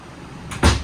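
A pantry cabinet door in a 2024 Forest River Salem Platinum 28FKGX travel trailer opens with a soft swish and then a single close, solid clunk.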